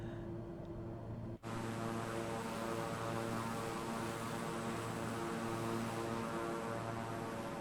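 A propeller airplane engine drones steadily in flight over Beirut in MSFS24, a loud continuous hum with a constant tone that carries on unbroken after a brief dip near the start.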